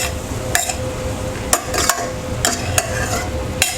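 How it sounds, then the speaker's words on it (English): Vegetables for lettuce wraps stirred with hoisin sauce in a pan, repeated sharp scraping strokes of a utensil against the pan over a low background sizzle, close and fairly loud, with no speech. "Stir it all together."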